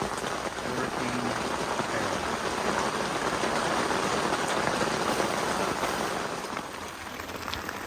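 Torrential rain after Hurricane Beryl pours steadily onto a campsite, a dense, continuous hiss of drops drumming on surfaces at a constant loud level with no break.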